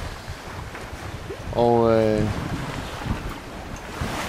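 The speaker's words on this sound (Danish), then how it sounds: "Til gengæld så er der en helvedes masse sø." Steady rush of wind and choppy, current-driven sea around a sailboat on a night sail with little wind, continuous and close, with a voice briefly speaking over it.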